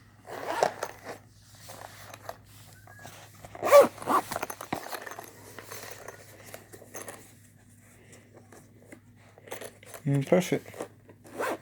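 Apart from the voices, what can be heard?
zipping up a Nintendo Switch carrying case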